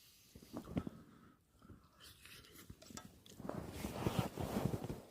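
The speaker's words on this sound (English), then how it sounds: "I'm going to munch this." Quiet chewing and munching of Jamaican curried tuna at a wild camp on Helm Crag, soft crunchy bites coming in bursts, growing busier and louder toward the end.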